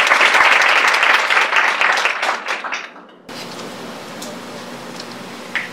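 A conference audience at a school nutrition workshop breaks into sustained loud applause that rises and then fades out over about three seconds, giving way to quiet room tone.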